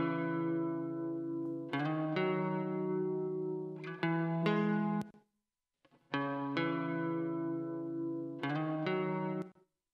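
Acoustic guitar strummed in sustained chords with delay and reverb effects in a pop mix, two ringing phrases separated by a brief silence, each ending in sharp percussive strums with echoing tails.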